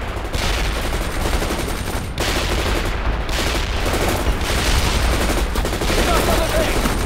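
Dense, continuous machine-gun fire from a World in Conflict: Soviet Assault battle against insurgents, a loud rattling barrage of rapid shots with only brief dips, layered with other distant gunfire and combat noise.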